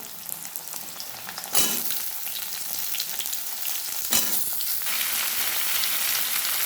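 Pumpkin and potato pieces go into a hot pan of oil, giving two loud bursts of sizzling followed by a continuous bright, crackling fry that stays close and steady without any talking.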